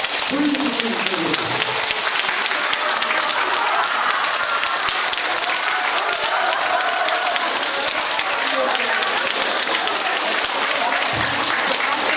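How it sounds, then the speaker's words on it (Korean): An audience at a lecture event claps loudly and continuously to welcome a singer, a dense sustained wash of applause that fills the whole stretch with no talk over it. "여러분 큰 박수로 함께 해주시겠습니다."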